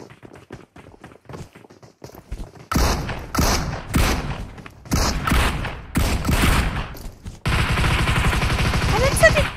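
Bursts of automatic gunfire and shots in the PUBG Mobile video game, loud and close, with rapid rattling volleys and a sustained burst near the end, mixed with in-game footsteps and a voice.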